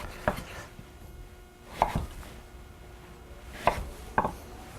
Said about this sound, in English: I want to chop it into 1-inch chunks